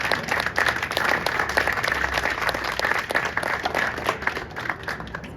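Audience applause at a talk by the founder of The Lisa Project, a steady wash of many hands clapping, fairly close and full, holding evenly for several seconds with no voices over it.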